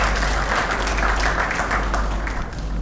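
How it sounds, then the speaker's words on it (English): An audience applauds at an Oktoberfest celebration, giving a dense, steady wash of clapping with a low hum underneath and no clear voices. "Let's give them a big applause."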